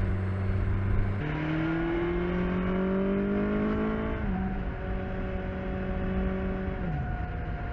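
A 2021 BMW S1000XR motorcycle engine accelerates on the road, its note climbing steadily through the gears with clear shift drops. It is loud and close throughout, with no talking.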